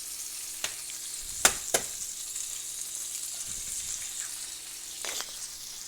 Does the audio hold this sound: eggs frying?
yes